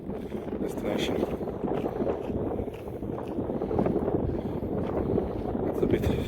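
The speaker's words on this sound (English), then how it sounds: "It's a bit chilly and windy up here already" Wind gusting across an exposed hilltop above Logatec, Slovenia, a steady broadband rush and buffeting against the microphone that persists loudly throughout, with a voice faintly present under it.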